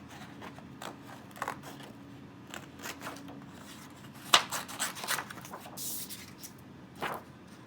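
Scissors snip through large sheets of paper during a children's polar bear art lesson, giving several quiet, irregular cuts and rustles spread across a soft room background.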